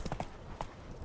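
Roach, a horse in The Witcher 3, gallops in quick, close hoof clip-clops, a brief rhythmic burst of a few strikes.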